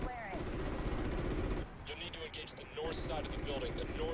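Machine gun fire in the video game Call of Duty: Ghosts, a dense, continuous roar of rapid shots that stays loud and close throughout, easing briefly in the middle before building back up.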